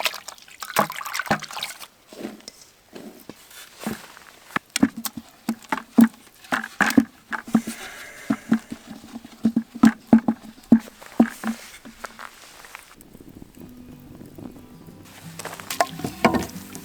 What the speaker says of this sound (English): I mixed the flour with a small amount of water first.